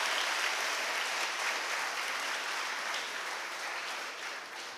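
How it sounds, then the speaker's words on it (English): An indoor audience applauding Sri Prakash Padukone at the MSNM Besant Institute, dense sustained clapping that slowly fades toward the end. "may I request you again to give a huge round of applause to Sir for his dedication"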